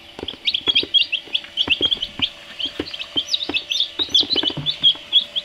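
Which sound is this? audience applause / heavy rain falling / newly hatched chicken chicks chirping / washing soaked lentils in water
newly hatched chicken chicks chirping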